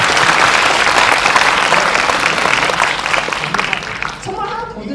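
Sustained audience applause at a film screening Q&A for the movie 'Hero', dense and loud throughout, thinning slightly at the end as a voice begins speaking.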